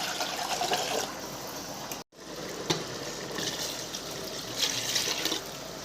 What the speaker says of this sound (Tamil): இன்னும் 2 உலக்கு தண்ணி ஆட் பண்ணிக்கோங்க.